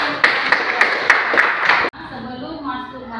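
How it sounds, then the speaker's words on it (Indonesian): A classroom group claps for a student in a quick, evenly spaced series of sharp claps lasting under two seconds, then the clapping stops abruptly and a voice speaks. "Kita beri tepuk tangan untuk teman kita"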